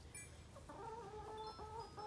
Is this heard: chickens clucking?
yes